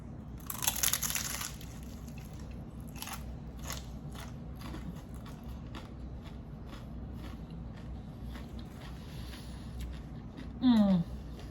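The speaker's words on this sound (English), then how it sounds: "The taco shell is so good, so crunchy." A single crisp crunch of biting into a hard keto chicken taco shell near the start, then quiet chewing and faint crackles over a steady low background hum.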